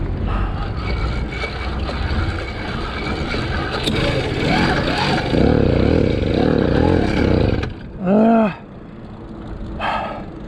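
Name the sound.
motorized bike engine revving with throttle opened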